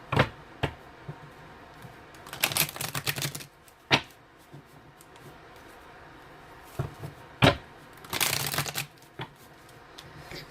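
Tarot cards are shuffled in several short riffling bursts, crisp and close, separated by sharp taps and quiet pauses.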